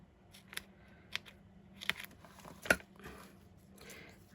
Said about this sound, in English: I'll put tape on 3 sides here